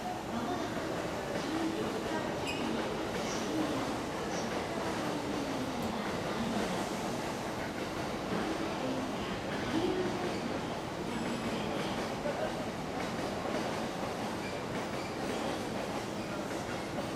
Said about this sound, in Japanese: 山手線池袋上野方面行きが到着です。